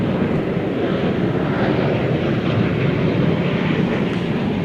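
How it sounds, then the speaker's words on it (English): A Volaris Airbus A320neo airliner rolls onto runway 18 left at Dallas/Fort Worth airport, its engines giving a steady, broad rumbling roar that holds loud and even throughout, with no voices. "A320neo rolling into place to go to Guadalajara, Mexico"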